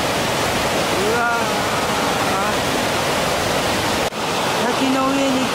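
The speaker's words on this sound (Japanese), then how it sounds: "滝の上に来ました。 広い川の流れのようです。" Ryuzu Falls heard from the top of the falls, a loud broad continuous rush of water with people talking faintly beneath it.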